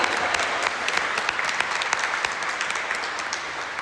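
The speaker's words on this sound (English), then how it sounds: "Give yourself a big round of applause." An audience applauds at an all-valley regional volleyball championship in Los Angeles, steady, full clapping from a crowd with a few sharper individual claps standing out, lasting the whole few seconds.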